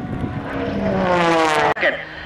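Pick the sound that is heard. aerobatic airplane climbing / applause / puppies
aerobatic airplane climbing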